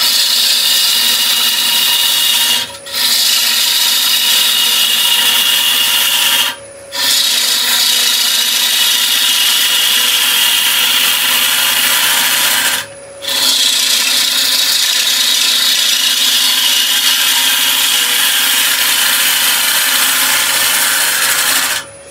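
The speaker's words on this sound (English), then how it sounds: "So you can see what we're doing there with that roughing cut." Wood lathe taking a roughing cut on a scrap wood bowl blank: a loud, continuous scraping hiss as the gouge shears wood, broken by a few brief pauses where the tool lifts away, then resuming steadily.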